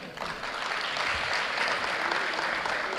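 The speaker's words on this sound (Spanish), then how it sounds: "Fuertes los aplausos." Sustained applause from a large audience at an energy panel, a steady dense wash of clapping that stays loud and even throughout, with no voices standing out.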